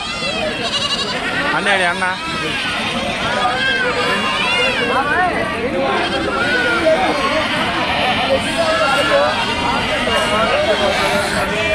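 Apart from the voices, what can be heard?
goats and kids bleating at goat market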